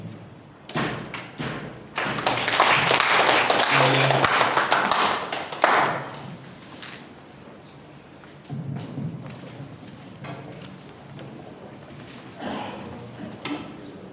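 A seminar audience at a clan association gathering in Jabodetabek breaks into a dense burst of applause lasting a few seconds, which then fades to scattered claps and room noise.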